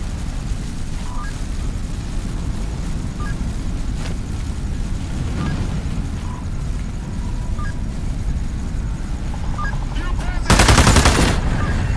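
Gunfire in the video game Into the Radius 2: scattered faint, distant shots over a constant low rumble, then a loud close burst of rapid fire near the end.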